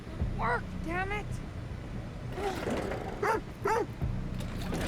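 A dog barks in The Devil in Me video game: a few loud, short barks arrive in two pairs amid rumbling background noise, with voice-like sounds mixed in.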